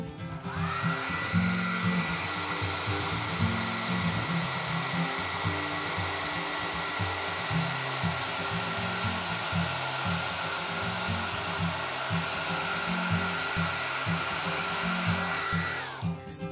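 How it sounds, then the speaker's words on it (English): Hair dryer held close to crayons to melt them, a loud continuous whooshing hum that runs steadily throughout and cuts off at the end. "you're gonna blow dry as close as you can to the crayons without touching them"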